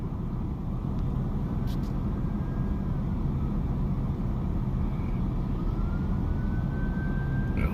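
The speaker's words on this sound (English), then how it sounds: "Here comes the ambulance" An ambulance siren wails faintly as it moves through a busy road intersection, its rising tone thin against a heavy, constant rumble of nearby traffic, with no voices.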